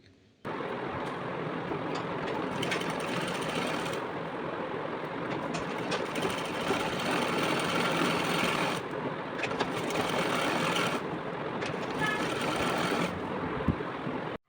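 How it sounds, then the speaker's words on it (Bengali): An electric sewing machine runs steadily, stitching a folded hem on a salwar, a fast whirring mechanical rattle that stops briefly twice, close and continuous. "এখন দেন আমি ভাঁজ দিয়ে একটু সেলাই দিয়ে নিলাম"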